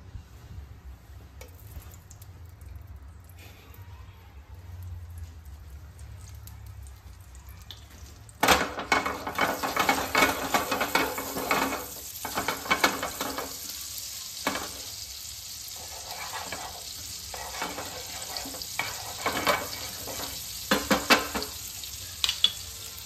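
Oil and butter sizzle and crackle in a pan as the base for a paneer butter masala gravy, starting quiet and then jumping to a loud, steady frying hiss with occasional stirring scrapes, no talking.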